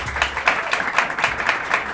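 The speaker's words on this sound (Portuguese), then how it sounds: "uma salva de palmas para ela." An audience at a talk on economics for social change claps in a fairly synchronized rhythm, roughly four beats per second, close and steady for two seconds.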